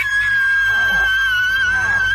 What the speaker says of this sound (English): The evil turkey appears and Chrissy screams